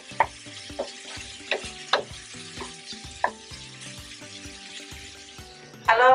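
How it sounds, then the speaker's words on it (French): Beef tripe with green onions simmering in a pan while being stirred, giving a steady low sizzle broken by several sharp scraping clacks of a utensil against the pan and a louder clatter at the end. "on laisse mijoter pendant 5 minutes"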